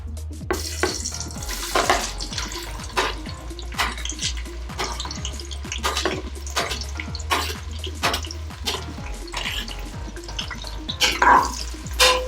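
Onions stirred in a hot frying pan while cooking Madurai-style mint chicken rice, with steady sizzling and frequent scraping strokes of a spoon, close and moderately loud throughout, no talking.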